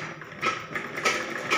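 A sewing machine stitches a cloth flower, giving a quick, rhythmic mechanical clatter close up, steady across the short stretch.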